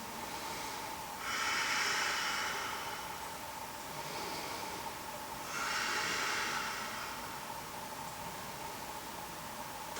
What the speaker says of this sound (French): des respirations profondes, lentes. On inspire et on expire